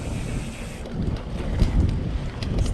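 Wind gusting against the microphone during a mountain bike ride on a wooded trail, a steady rushing roar with low rumbling buffets and no talk.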